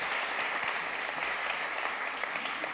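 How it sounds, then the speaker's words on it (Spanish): Dense, steady audience applause filling a conference hall as a speaker on Colombia, memory, journalism and peace is welcomed, with the clapping loud and continuous and nothing else heard. "les pido un fuerte aplauso para don Jorge Cardona"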